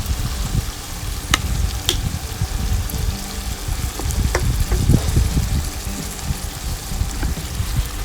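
Chili simmering and frying in a pot with beer, tomato and garlic, a loud continuous bubbling sizzle with occasional sharp clinks and stirring scrapes close by, without voices.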